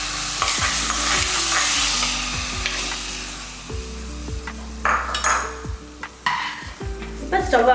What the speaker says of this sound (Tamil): தேங்காய் இந்த அளவுக்கு நீங்கள் வந்து பொரிச்சு போட்டிங்கன்னா போதும் நெய்யில்.